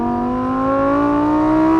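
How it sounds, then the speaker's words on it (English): A naturally aspirated V10 in a rear-wheel-drive Lamborghini Huracan EVO Spyder sings close up, its tone rising smoothly as the revs climb, loud and alone. "there's something about the note of this V10 that makes it the best of the lot"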